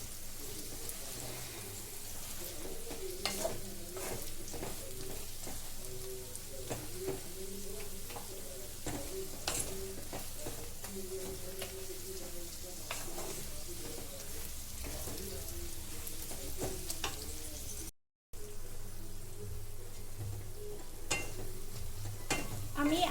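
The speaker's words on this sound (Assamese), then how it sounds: "আৰু এনেকৈ লৰাই দিম যাতে গুড়খিনি গলি যায়।" Mango pickle stirred in a pan with jaggery melting, steady scraping and stirring strokes over a soft background sizzle, close and quiet, with no talking.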